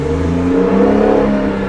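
A Porsche 911 Turbo 997.2 with a PDK gearbox accelerates hard, its engine note a loud, steady rising drone that climbs smoothly in pitch with no talk over it.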